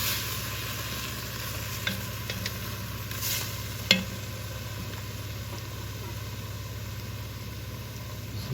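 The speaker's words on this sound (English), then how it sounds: "there's some bits on the bottom of the pan that I can use my wooden spoon to scrape up" A wooden spoon scrapes the bottom of a sizzling pan with oxtail for a stew, a steady fry hiss under a low hum with a few scattered scrapes and clicks, one sharper knock near the middle.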